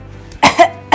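A single spoken-word demonstration cough, two quick harsh bursts close together, loud and close, then the start of another at the very end.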